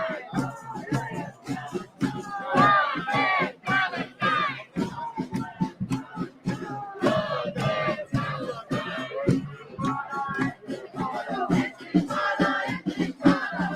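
Large protest march crowd in a Chicago street, with many voices chanting and shouting in loud, rhythmic bursts that rise and fall continuously.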